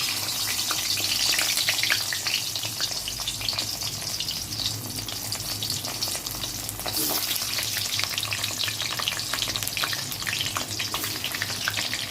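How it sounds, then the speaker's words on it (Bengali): Potatoes frying in hot oil in a wok give a steady, close, continuous sizzle with crackling bursts throughout, and no voices. "আলুগুলো ফার্স্টে তেলের মধ্যে ভেজে নেব।"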